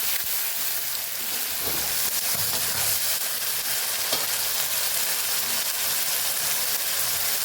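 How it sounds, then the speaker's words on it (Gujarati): Grated tomatoes sautéing in a hot pan with spices, a continuous bright sizzle and hiss with occasional stirring scrapes, steady and close, no talking over it. "જે આપણે ટમેટા ખમણી લીધા હતા એને પણ આપણે સરસ સાતળી લેવાના છે"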